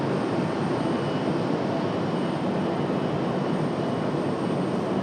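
Airplane taking off from runway 23 left at Raleigh-Durham International Airport, a steady, loud broadband jet roar filling the whole stretch without letup, no voices.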